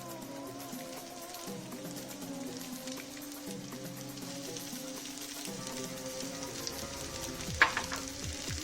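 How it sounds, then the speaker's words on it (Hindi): Chopped onion frying in ghee in a pan, a steady close crackling sizzle like light rain on a surface, continuous and even with one brief sharp clink near the end, no voices. "थोड़ा सा घी डालने के बाद इसमें हम डालेंगे अपना प्याज"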